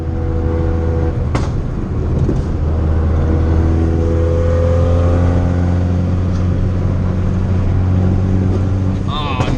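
Widebody turbocharged car driven on a canyon road, its exhaust droning loud and steady with a rising rev toward the end, a brief sharp pop near the start and speech-like sounds mixed in.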